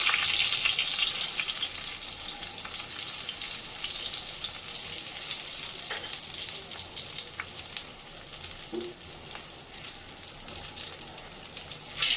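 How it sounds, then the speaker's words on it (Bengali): Bay leaf and whole cumin sizzle in hot oil in a pan, a steady close hiss of frying that runs unbroken throughout, with a few faint clicks near the middle. "এবারে আমি দিচ্ছি তেজপাতা ফোড়ন আর গোটা জিরে ফোড়ন।"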